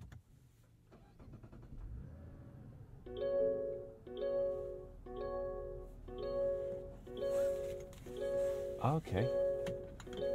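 A Mazda CX-90 Turbo S three-row SUV starts up amid repeated loud warning chimes, a regular pattern of bright electronic tones sounding about once a second over the engine's low hum, with a brief word spoken early on.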